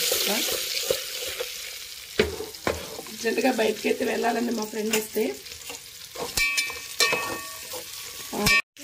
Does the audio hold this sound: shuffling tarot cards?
no